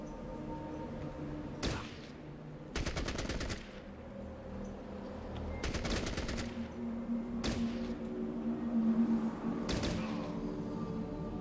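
AK-47 fire in a video game: five sharp bursts of rapid automatic shots spaced a few seconds apart, loud and close, over a steady low game background hum.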